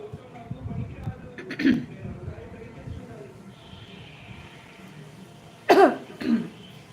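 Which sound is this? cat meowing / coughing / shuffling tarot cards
coughing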